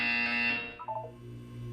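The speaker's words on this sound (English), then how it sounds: "When you hear the buzzer, look down at the floor." A loud electronic buzzer sounds in the game Portal 2, one sustained harsh tone that cuts off abruptly and gives way to quieter background hum and a few faint tones, no talking.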